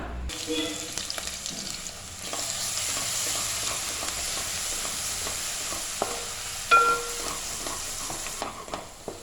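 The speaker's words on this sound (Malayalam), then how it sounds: "നല്ലൊരു സ്മെല്ല് വരണ വരെ ഇളക്കി കൊടുക്കുക" Ginger, garlic and green chilli paste fries and sizzles steadily in a pan for Kerala-style vegetable biryani, with scraping stir strokes and a brief louder clatter near the end, no talk.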